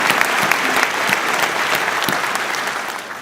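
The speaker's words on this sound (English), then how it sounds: "Let's give them a round of applause." A studio audience claps steadily for a newly married couple, dense, even applause that stays loud throughout, with a faint voice or two mixed in.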